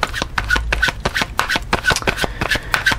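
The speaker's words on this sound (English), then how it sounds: "I am shuffling the cards." A deck of tarot cards is shuffled by hand nearby, giving a run of quick papery riffles and soft slaps in uneven bursts, with no talking.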